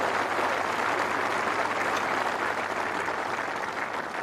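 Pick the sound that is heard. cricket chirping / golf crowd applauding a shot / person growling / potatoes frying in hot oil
golf crowd applauding a shot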